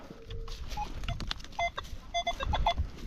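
A metal detector gives several short, high, thin beeps while sweeping over a harvested corn-stubble field. Rustling steps and handling noise surround the beeps.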